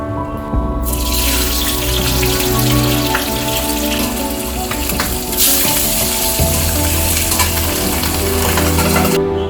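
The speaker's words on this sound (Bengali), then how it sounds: "প্রথমে মাছটা ভেজে নিতে হবে।" Steady, loud sizzling of pabda fish frying in hot oil, a continuous crackling hiss with occasional bubbling and stirring clatter, no voices.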